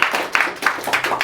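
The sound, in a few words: audience applause for comedian Beler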